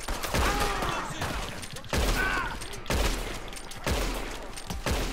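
Gunfire in Red Dead Redemption 2 rings out in five heavy, evenly spaced shots about a second apart, loud and booming, with game characters' voices faintly heard.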